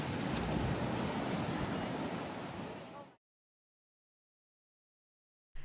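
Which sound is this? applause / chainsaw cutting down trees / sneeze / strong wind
strong wind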